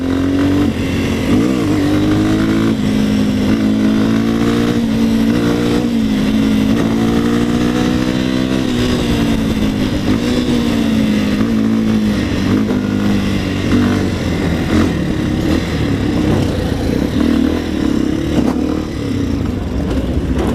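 A Bajaj Dominator 250 motorcycle engine pulls hard and climbs steadily in pitch as it accelerates through the gears, a loud continuous drone with no pause for about twenty seconds.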